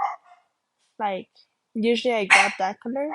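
Dogs bark and yip at home in the background, several short harmonic barks clustered toward the end, while someone talks close by.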